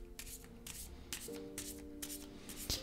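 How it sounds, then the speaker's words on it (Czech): Tarot cards being shuffled by hand, a run of soft papery riffles and slides in a steady rhythm, close and fairly quiet with a faint steady hum underneath. "Tak budu míchat chvilku."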